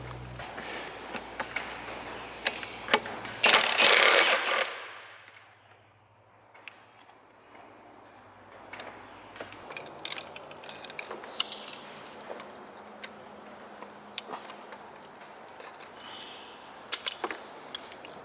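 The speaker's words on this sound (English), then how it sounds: "So I'm using a 1 1/8 impact socket." An impact wrench with a 1-1/8 inch impact socket loosens the bogie wheel nut on an ASV RC-50, giving one loud, harsh mechanical burst of a couple of seconds. Quieter workshop clatter follows.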